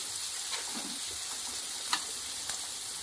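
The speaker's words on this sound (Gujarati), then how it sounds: "ડુંગળી નાખ દીધી અને હળવળો થાય તેલમાં પાકી જાય" Onion frying in oil gives a soft, even sizzle with a few faint stirring ticks, quiet and close, no talking.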